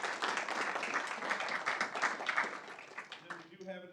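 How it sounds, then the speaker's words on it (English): An audience claps for a police department member's five years of service, a brief burst of mid-distance applause that tapers off as a voice starts speaking. "Let's give a round of applause to Joey for 5 years"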